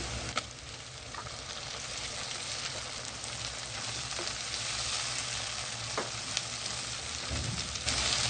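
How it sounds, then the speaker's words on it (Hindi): Tomatoes dropped onto onions browned in ghee, for a Punjabi tinda sabzi, fry with a constant close sizzle and occasional sharp pops and spatters, with no voices. "अब हम इसमें टमाटर ऐड करेंगे।"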